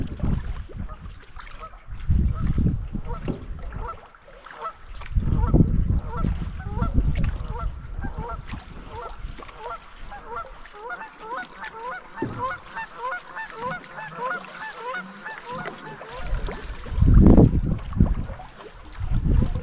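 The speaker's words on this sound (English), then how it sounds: "Man, they're big birds." A flock of geese honks repeatedly in a wilderness area during an April canoe trip in Nova Scotia, their calls overlapping in a busy, steady chorus with occasional louder nearby bursts and low rumbles of wind or handling.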